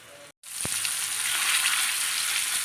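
Fish pieces fry in hot oil for a fish fry, giving a loud, steady, close sizzle that runs on after a brief cut at the start, with one faint knock and no voices.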